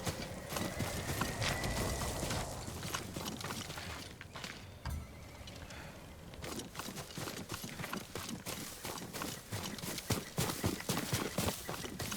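Horse hooves clip-clopping at a walk in the Ghost of Tsushima video game, steady and close over an ambient backdrop, with an occasional faint neigh mixed in.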